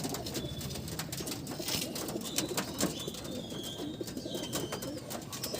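Pigeons of a Howrah breed kept by a fancier coo steadily in a loft, several birds layered into a continuous low murmur with faint chirps above.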